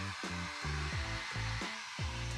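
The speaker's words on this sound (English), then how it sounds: "then I let it air dry with a hairdryer" Hair dryer blowing steadily on glue-sealed sand texture, a loud continuous whir with pitch that repeatedly dips and recovers as the airflow shifts, heard alone up close.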